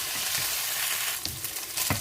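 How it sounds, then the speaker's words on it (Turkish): Continuous hissing sizzle of meatballs frying in a pan, broken by a few clinks and scrapes as they're stirred, nearby and fairly loud. "köftelerimizi harika bir şekilde kızarttık"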